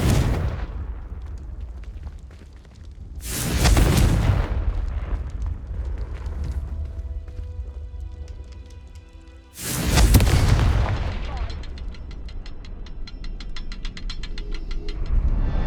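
Two heavy booming blasts of the Confringo fire spell in the video game Hogwarts Legacy, each a loud, broad burst that fades into a ringing, sparkling tail, about six seconds apart over continuous game ambience.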